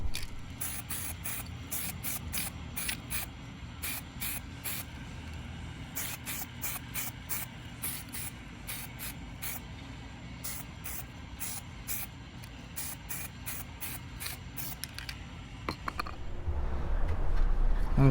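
Semi-gloss clear coat is sprayed onto brake calipers in many short, sharp aerosol bursts in an irregular rhythm, close and loud over a low steady hum, and a louder rumble rises at the end.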